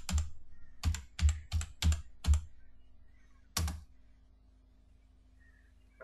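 Bursts of computer keyboard typing at close range, several quick clusters of keystrokes in the first seconds, then one short burst after a pause, with quiet room tone between.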